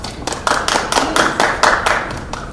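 A small audience claps at a Brooklyn Borough Hall Lunar New Year celebration, about eight to ten distinct, fairly close claps spaced unevenly, with no talking.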